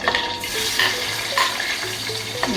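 Sliced onions frying and being stirred in a hot pan for a Kerala-style prawn curry, a steady loud sizzle with repeated scraping stirs of a utensil against the pan, no talking.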